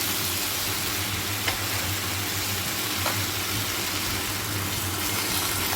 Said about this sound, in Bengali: এখন একটু নেড়ে নিচ্ছি।